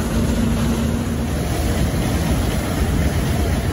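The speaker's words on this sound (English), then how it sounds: "they're running the thresher with it" An antique engine turning a flywheel to drive a thresher at an outdoor power show, a loud, steady mechanical rumble and clatter that runs without a break, close by.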